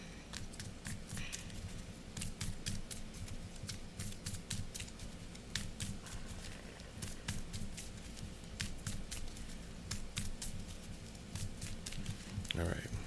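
Deck of Marvel Champions LCG cards being shuffled up close, a run of quick crisp riffles and soft papery snaps repeating steadily over low room noise, with no talk.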